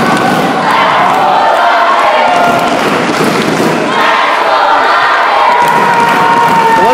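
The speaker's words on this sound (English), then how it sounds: "Listen to the audience," A wrestling crowd roars loudly and continuously through a live match, with shouting, cheering and occasional thuds blending into a dense, deafening wall of noise.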